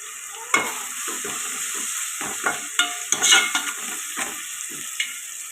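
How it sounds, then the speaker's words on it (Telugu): Tomatoes sizzle softly in a pan under a steady background hiss, broken by repeated scraping stirs and light utensil knocks close by, with no talking. "టమాటాలు ఇలా మగ్గుతున్నాయి కదండి."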